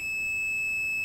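A single steady continuity beep sounds from a multimeter probing a drop-damaged motherboard, a clear sustained electronic tone held close and alone.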